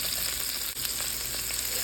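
Bihon rice noodles fry in a pan while being tossed and mixed, a dense, even sizzle that holds steady throughout with faint stirring scrapes beneath.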